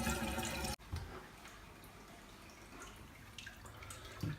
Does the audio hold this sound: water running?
yes